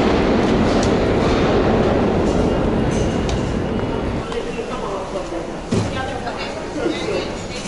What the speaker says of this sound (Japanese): ちょっとね、こう地下鉄のホームということでかなり音がね、大きいんで